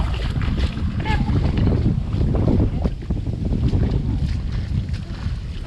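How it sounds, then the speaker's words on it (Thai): Wind gusting outdoors around someone foraging for water beetles by foot, a steady rough rumble buffeting the microphone throughout, with people talking underneath. "ลมพัด"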